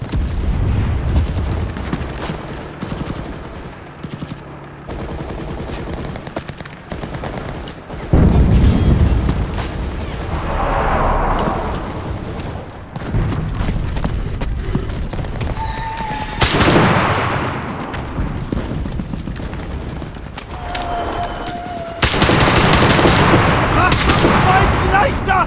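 Artillery fire and gunfire from a video game battle, with repeated heavy booms and bursts of shots at close range, loud throughout and mixed with game voices and radio chatter.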